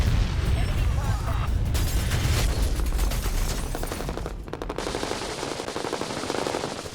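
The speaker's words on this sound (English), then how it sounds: "Heavy machine gun fire initially," Heavy machine gun fire from a Taliban ambush on a small convoy of Australian, US and Afghan troops, a dense continuous roar of rapid bursts with booming low rumble throughout, loud and close, with voices faintly mixed in.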